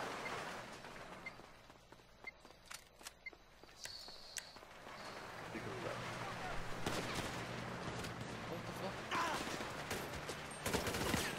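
Sporadic then sustained gunfire during a chaotic GTA V Online match, sharp shots early giving way to a dense, continuous barrage of rapid machine gun fire with explosions and game noise building toward the end.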